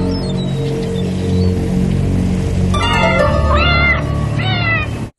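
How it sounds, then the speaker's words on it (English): A cat meows repeatedly in a ship's engine room, a series of loud, close cries over a constant low engine drone that fills the space throughout. "the cat's exploring the engine room, enjoying the acoustics having no effect on his meows"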